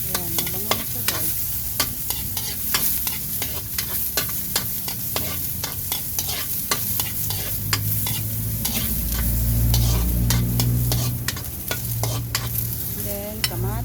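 Onion frying in a little oil for sinigang na hipon, a soft steady sizzle broken by frequent scraping and clacking stirs of a utensil against the pan, close and moderately quiet with no talking.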